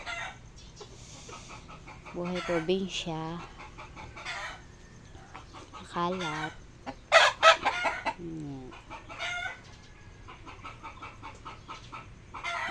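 Chickens cluck and a rooster crows in a rural yard, the calls coming in bursts over a quiet background while a person speaks briefly now and then.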